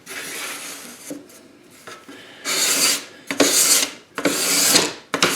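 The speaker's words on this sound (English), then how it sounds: "scraping these edges, making sure that most of the glue is off" Dried hide glue is scraped off the edges of hammer-applied wood veneer in repeated rasping strokes, each a loud, close scrape, with a few softer ones before three strong passes.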